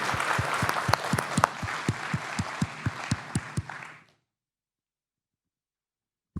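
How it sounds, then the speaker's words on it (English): Warm audience applause at a conference talk on open-source community management, steady and close for about four seconds, with a few sharper individual claps standing out, then cutting to silence. "let's all give Andras and Sami a warm applause for this"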